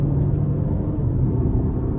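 A 2024 Cadillac XT4 2.0T AWD accelerating in sport mode, a steady low engine rumble heard from inside the cabin, even and sustained with no voices.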